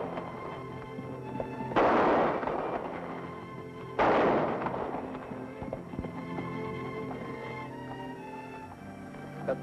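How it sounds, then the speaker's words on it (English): Two sharp gunshots from a western-style shootout, each a loud, abrupt crack with a ringing tail, spaced about two seconds apart, followed by a lingering background hum. "That's pretty good shooting, Pancho."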